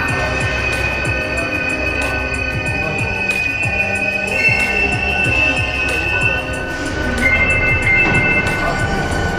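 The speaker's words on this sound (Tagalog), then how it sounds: "The train on platform 1 is bound for Senbachana." A train at an Osaka station platform, with wheels squealing and a steady rumble of rail cars alongside, plus faint background voices.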